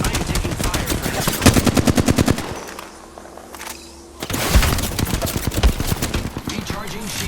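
Rapid bursts of automatic gunfire from a shooter video game, loud and close, rattling in quick volleys, then a brief lull before the shooting resumes in dense repeated bursts.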